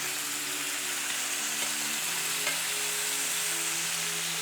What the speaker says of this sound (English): now that our pan is hot, steak's going in. And hear that?